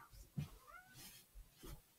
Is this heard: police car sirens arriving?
no